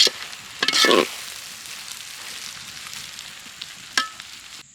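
Prawn pasta with soy sauce being stirred in a pan, with a steady soft sizzle of frying under a couple of louder scraping stirs near the start and one brief clatter toward the end.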